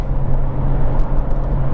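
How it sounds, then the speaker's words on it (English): Steady low rumble from the active exhaust of a Jaguar F-Type cruising at 60 mph on a dual carriageway, a constant droning bed heard from inside the car with tyre noise mixed in and no talk. "I've got the active exhaust system on."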